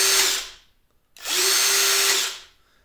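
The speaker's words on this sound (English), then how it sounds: "You notice that the Hypertough, or any brushed impact, it stops instantly as soon as I take my hand off the trigger." A brushed Hypertough impact driver whirs in two loud, steady bursts, halting abruptly each time the trigger is released, with a short silent gap between runs.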